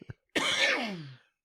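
A man gives a single harsh, drawn-out cough lasting about a second, close to the microphone, preceded by two short throat sounds.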